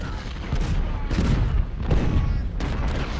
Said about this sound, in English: Our artillery is opening up.